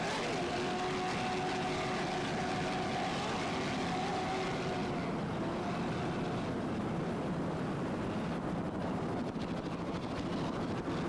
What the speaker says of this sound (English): Twin 750 horsepower Bandit engines